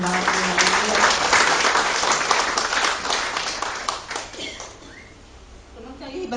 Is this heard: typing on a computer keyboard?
no